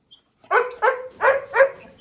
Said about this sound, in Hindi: तो देखे माशाल्लाह इन्होंने ये कुत्ता रखा हुआ है